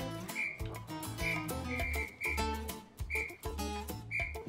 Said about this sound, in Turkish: Bu ne ya, düdük sesi mi?